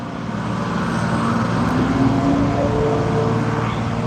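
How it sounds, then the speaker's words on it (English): A steamroller works on a residential street during road construction, making a steady, moderately loud low rumble of heavy machinery heard from close by, with no talk over it. "They got the steamroller out."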